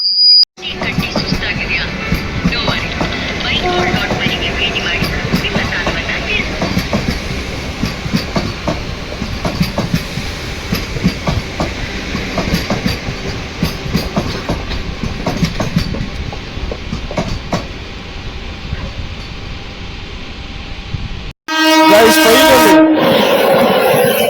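A train roars past at speed with continuous rumbling and rhythmic rail clatter for about twenty seconds, loud and close, ending in a sudden cut.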